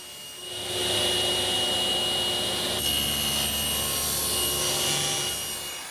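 A saw blade cuts a sheet of plywood fed against the fence in one smooth pass, giving a steady, loud whining and rasping cut that lasts several seconds and tapers off at the end.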